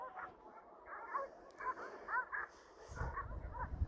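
Dogs bark and yip in short bursts at a moderate distance, a pack of six sheepdogs attacking an animal, with a low rumbling background growing louder toward the end.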